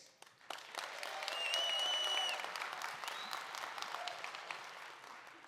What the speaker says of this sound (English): So we're gonna do it by round of applause.